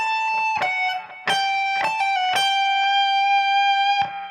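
A riff on electric guitar with an effected, lightly distorted tone: quick picked notes and slides at the start settle into a long sustained note, played close and alone.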